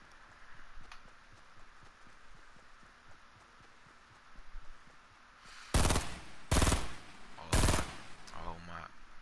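Gunfire in Fortnite, a loud burst of three sharp close shots after several seconds of quiet game ambience, with a faint trailing clatter.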